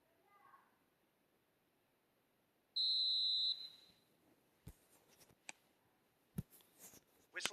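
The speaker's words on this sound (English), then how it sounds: "Whistle goes, and we start the second half" A referee's whistle in the eFootball video game signals the start of the second half: a single loud, sustained blast of about a second, followed by scattered faint clicks and ticks.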